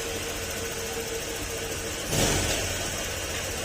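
A car engine idles steadily after a tensioner replacement and engine refresh, a low, even hum with a brief louder rise partway through.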